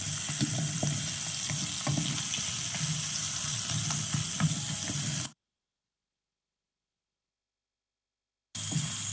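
Onions sizzle steadily in a pan while being stirred, a close, continuous frying hiss with small scraping clicks. About three seconds of dead silence cut in before the sizzle briefly returns, with no voices.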